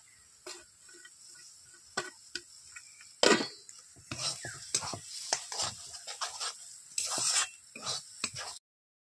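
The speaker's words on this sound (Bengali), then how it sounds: "মশলা আর ধনেপাতা দিয়ে আমি ভালো করে মিশিয়ে নিয়েছি" A spoon stirs potato curry with garam masala and chopped coriander in a pan, producing irregular scrapes, clinks and soft sizzling bursts close by, then stopping abruptly.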